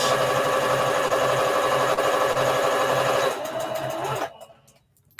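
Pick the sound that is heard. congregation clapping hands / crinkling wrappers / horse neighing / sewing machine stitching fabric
sewing machine stitching fabric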